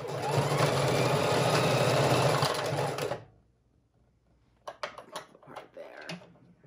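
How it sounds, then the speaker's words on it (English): A sewing machine runs steadily for about three seconds while stitching a fabric junk journal cover, then stops, followed by a few soft handling clicks and rustles. "sew on both sides as well"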